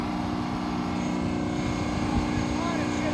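Potato harvest equipment running with an ineffective muffler, a loud, continuous engine roar with a steady low drone and no letup.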